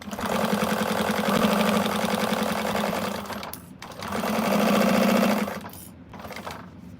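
A home sewing machine runs in two steady bursts of rapid, even stitching, each a few seconds long, loud and close, with a brief pause between them and a softer tail at the end.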